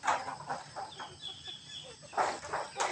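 Farm chicken clucking in a few scattered bursts, moderately near, with quiet countryside ambience between calls.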